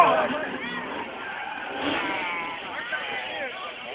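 A drift car's engine screams at high revs with rising and falling pitch, slightly distant, while an announcer talks over it at a drift show in Franca, Brazil.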